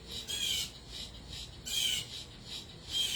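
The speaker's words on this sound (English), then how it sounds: "a bird that has a red body and has this beautiful plumage" A red-bodied bird with long, showy feathers at a garden gives harsh, raspy squawks in a rapid repeating series of about half a dozen calls, fairly close and clear with no talking.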